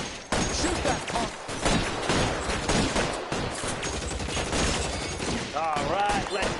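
Sustained video-game gunfire in L.A. Noire, dense overlapping shots from several weapons throughout, loud and close, with voices shouting over the shooting.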